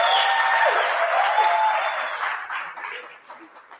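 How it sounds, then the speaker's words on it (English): A workshop audience in Mamelodi breaks into a sustained round of applause, dense clapping filling the room loudly at first, then thinning and fading toward the end, with some cheering voices mixed in. "give a round of applause"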